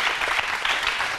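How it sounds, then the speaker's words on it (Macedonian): Classmates applaud at a Macedonian school TV show, a dense, steady round of clapping from a group filling the whole short stretch at even loudness. "Еден аплауз за вашите соученици."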